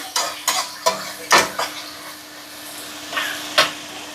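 A spoon stirs tomato curry in a cooking pot with several sharp scraping knocks against the metal in an uneven rhythm, close and fairly loud, over a faint bubbling simmer and a steady low hum.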